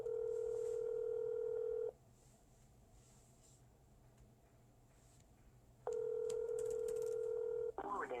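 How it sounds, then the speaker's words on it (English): A voicemail system sounds two bright electronic tones, each lasting about two seconds, separated by a quieter stretch of line noise, with a brief clatter at the end. "At the tone, please record your message."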